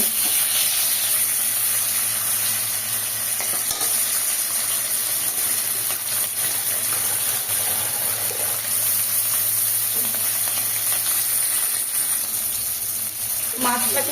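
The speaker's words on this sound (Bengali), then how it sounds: "ইলিশ মাছের মাথা দুটোকে আমি ভেজে নেবো তেলে।" Steady, dense sizzling of hilsa fish heads frying in hot oil, continuous throughout with a few faint clinks, no talking.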